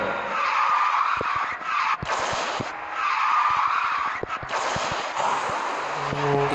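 A car drifts in Garena Speed Drifters, its tires screeching in long, loud skids over a steady engine roar, with short breaks between slides.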